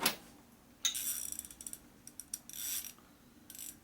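A hand ratchet turns a socket during a rebuild of a 2001 Gilroy Indian motorcycle: quiet, close, rapid bursts of pawl clicking in several short runs, with no talk.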